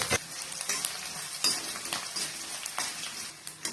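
Dried chillies and curry leaves sizzle and crackle in hot oil in a pan for Tamil coconut rice, with occasional stirring scrapes; steady frying close by, no voices.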